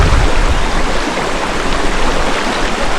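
Water of a stream below Ukkada waterfalls in Chikkamagaluru, shallow and cold enough to wade across, rushing continuously in a dense, steady broadband wash, close and loud throughout.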